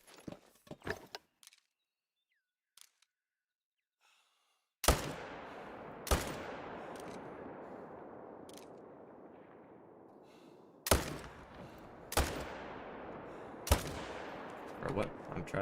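Several loud, sharp gunshots from a pheasant-and-fox hunting video game, each followed by a long decaying echo, spaced a second or more apart after a quieter start.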